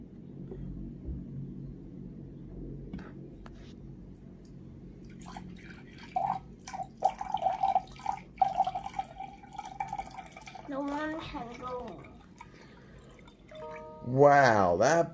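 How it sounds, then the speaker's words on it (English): Water is poured from a toy into a measuring cup indoors, a soft trickling and dripping splash that builds in the middle stretch over a low hum, with a child's and an adult's voices speaking near the end. "Pour that into the measuring cup, Noah."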